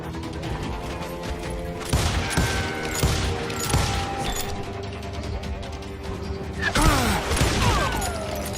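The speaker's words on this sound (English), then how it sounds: "They're shooting in the street!" A dense barrage of gunfire in a Wild West town street in Call of Juarez Gunslinger, loud overlapping shots and ricochets rolling on continuously, with heavier bursts near the end.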